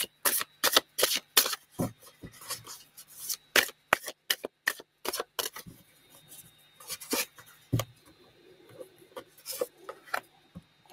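Akasha oracle cards being shuffled by hand: quick, crisp riffling bursts in a dense run at first, then sparser, softer shuffles, close and otherwise quiet.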